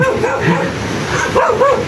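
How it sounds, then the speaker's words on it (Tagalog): A dog barks several times a short distance away, with a few yips in quick succession over faint outdoor background noise. "So, may tumatahol na aso."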